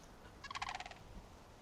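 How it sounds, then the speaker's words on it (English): Sandhill cranes give a short, loud rattling burst of bugling calls from a distance outdoors, a quick rolling series of notes heard over a low background hum, with no talk. "that's f***ing loud, huh? Sandhill cranes, man, they're pissed."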